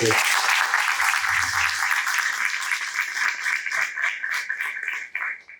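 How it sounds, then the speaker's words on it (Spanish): Audience applause at a disability and rights conference panel, a dense burst of clapping from a crowd that runs steadily for several seconds before tapering off at the end. "Le pido un aplauso para él."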